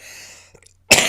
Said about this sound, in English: sorry, I have a chronic cough.